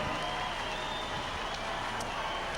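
Faint, steady applause from a crowd at a truck and tractor pull in Louisville, Kentucky, following the 8,200-pound super stock diesel tractor class, a soft continuous patter throughout.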